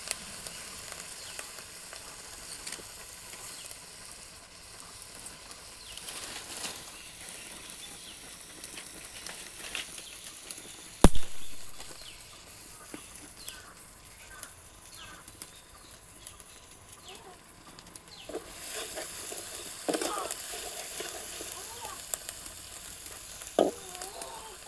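Onion frying in a pan for a rohu fish curry, a soft continuous sizzle and crackle heard close up, with occasional stirring scrapes and one sharp knock around the middle.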